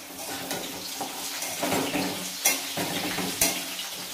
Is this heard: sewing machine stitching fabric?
no